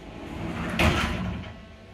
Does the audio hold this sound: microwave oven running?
no